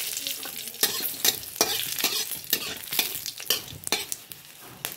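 Dried red chillies and bay leaves hit hot oil in a kadhai, giving a steady close sizzle broken by repeated sharp scraping bursts from stirring, with no voices.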